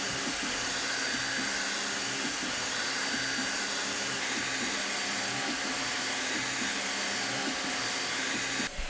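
A eufyMake UV Printer E1 runs through a print job with a steady, broadband whirring and hissing hum, overlaid by rhythmic low mechanical shuttling as the print carriage moves back and forth, continuous and fairly close.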